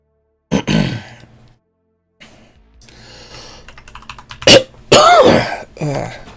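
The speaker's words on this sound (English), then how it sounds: "Of course I had to start coughing." A person coughs in bursts near the microphone during a coding session, with throat-clearing sounds and keyboard typing between the coughs.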